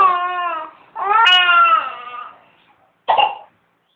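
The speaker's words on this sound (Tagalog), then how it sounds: "Oh, umubo na." A baby cries in short whimpering bursts, then gives a couple of sharp, close coughs near the end, loud and clear against a quiet room.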